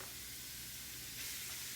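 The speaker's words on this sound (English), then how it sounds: "You hear that sizzle?" A pound of ground beef sizzles in a couple teaspoons of olive oil in a hot pot, giving a steady, dense hiss that swells slightly partway through, close and unbroken, with no voices.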